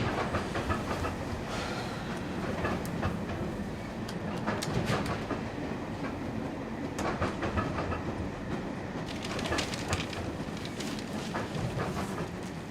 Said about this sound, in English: started with Michael Deakin, my uncle, boarding his usual 6:45 train to Three Bridges one winter evening.